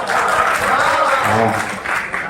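An audience claps at a Hindi kavi sammelan, a poetry gathering in Khandva, producing a dense burst of applause that runs the whole time under a voice.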